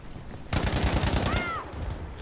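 Machine-gun fire in Battlefield 5 Firestorm: a rapid burst of loud close shots in quick rhythm lasting about a second, with a brief whistling tone partway through, then fading into a dull background.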